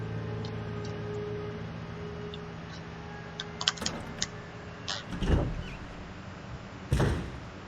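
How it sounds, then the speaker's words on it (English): A door opens in the Resident Evil remake's mansion, with a few soft clicks and a heavier thud, then a second low thump near the end, all over a quiet, steady ambient hum. Nobody speaks. "Let's go and open the last door."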